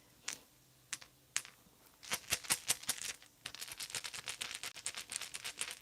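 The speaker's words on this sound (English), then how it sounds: "you can hear my dice running around my bag" Dice rattling around inside a bag make rapid, close clicky clatters, first in scattered taps and then a dense, continuous burst of small impacts, quiet overall.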